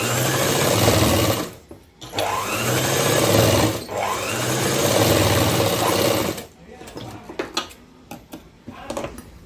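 A sewing machine runs in bursts while stitching a coat, its rapid mechanical whir starting and stopping with short pauses, and a voice talks over it.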